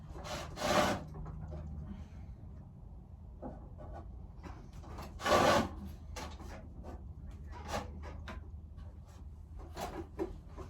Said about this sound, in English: Trimming is probably one of my favorite parts of throwing.